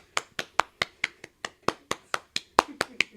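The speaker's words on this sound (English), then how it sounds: "I need a hand clap when you edit it" A single person claps hands about fourteen times at a steady, fairly quick pace, each clap crisp and close in a quiet room.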